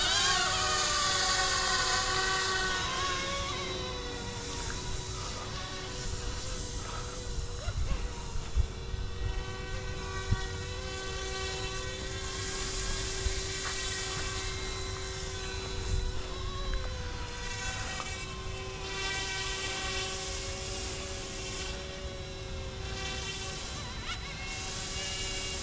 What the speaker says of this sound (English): Pretty helicopter.